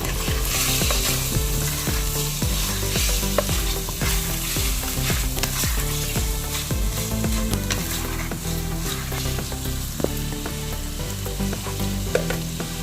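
Green mango, a few green chilies and cut drumstick are stirred into a loud, steadily sizzling prawn curry, the spoon scraping the pan in quick rhythmic strokes close up, with no voices.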